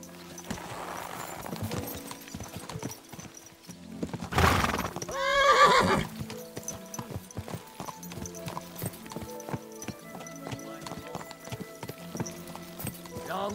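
In Kingdom Come: Deliverance 2, horses ride out with steady hoof clip-clops and a loud whinny midway, the trotting rhythm continuing close by as voices talk faintly underneath.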